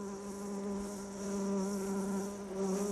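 Male bees buzz steadily around an ophrys orchid flower, a close, continuous droning hum that swells and fades slightly, with no voices.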